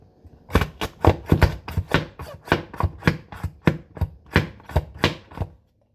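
Slap Chop hand chopper repeatedly slapped down on celery, about fifteen sharp plastic clacks with crunchy chopping in a quick, slightly uneven rhythm, close and loud, then silence.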